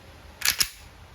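Two sharp, close airsoft shots from an E&C Glock 17 pistol, snapping in quick succession about a fifth of a second apart against a quiet background.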